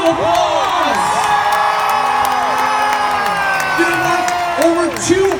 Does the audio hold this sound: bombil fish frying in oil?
no